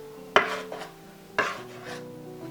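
A utensil stirs salt and citric acid together in a bowl for baklava dough, giving two sharp clinks against the bowl followed by soft scraping, quiet and close with no talk.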